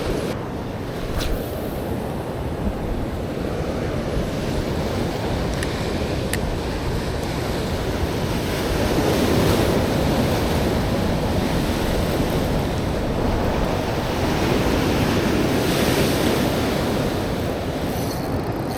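Ocean surf washes continuously onto a shore at low tide on a fishing trip, a loud, steady roar of breaking waves with gusts of wind buffeting the microphone and no talking.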